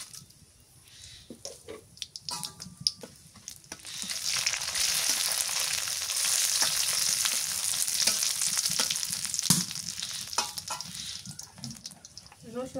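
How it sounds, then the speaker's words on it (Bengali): A bay leaf and dried red chillies hitting hot mustard oil as a tempering, a scattered crackle that swells into a dense steady sizzle, with a few clinks around it. "একটা তেজপাতা, 3টে শুকনো মরিচ, আর দিয়ে দিই ফোড়ন।"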